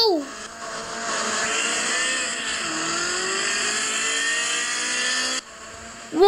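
A 1981 DeLorean DMC-12 mod car in a video game accelerates hard, its engine holding a steady, loud revving drone whose pitch climbs gradually over several seconds before cutting off near the end.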